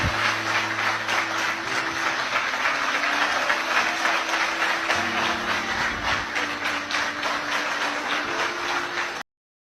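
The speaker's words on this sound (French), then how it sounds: "je ne peux que vous demander d'applaudir Monsieur le Président pour prôner nos valeurs" A crowd applauds at a French-language political gathering tied to the Liberal International, sustained dense clapping at a steady level with low hum beneath, cutting off abruptly near the end.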